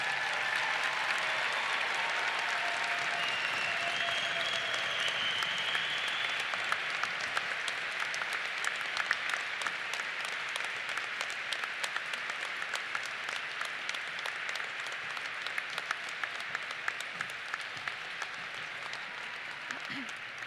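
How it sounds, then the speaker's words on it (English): A crowd applauds the graduating class of 2021 at the Indiana Academy commencement ceremony, with sustained, dense clapping that holds steady for about twenty seconds and tapers slightly toward the end. "Big hand of applause for them."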